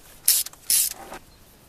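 A ratchet loosens a tight spark plug on a car engine, giving two short, crisp clicking bursts close up, followed by a fainter creak.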